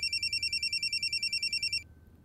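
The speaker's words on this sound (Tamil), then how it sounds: "சஞ்சய் தான் ஃபோன் பண்றான்" A telephone rings for an incoming call in a domestic Tamil drama scene, a loud, steady electronic ring pulsing in quick bursts for nearly two seconds before cutting off, leaving a quiet room hum.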